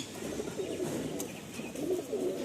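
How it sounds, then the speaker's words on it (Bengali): Pigeons kept by a breeder coo in low, soft, repeated murmurs close by, a steady bubbling rhythm with a faint chirp or two above it and no talking. "খুব ভালো পায়রা আছে"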